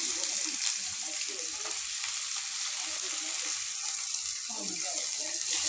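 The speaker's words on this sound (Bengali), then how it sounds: "পেঁয়াজটা ভালো করে ভেজে নেব।" Chopped onion fries with panch phoron in a pan, a loud, constant sizzle with faint stirring scrapes and no pause.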